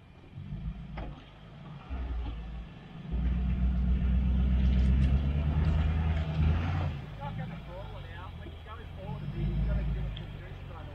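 An off-road vehicle stuck in mud revs hard with the pedal floored and traction control failing. The engine gives loud, low rumbling surges that swell and fade, while voices talk over it.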